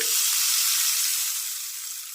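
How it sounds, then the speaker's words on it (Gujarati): Hot tempering of cumin, green chili and asafoetida hits fermented dhokla batter with a loud, steady sizzle that fades slightly over two seconds, close and alone with no talk. "આ તૈયાર કરેલો જે વઘાર છે એને આપણે બેટરમાં એડ કરી દઈએ"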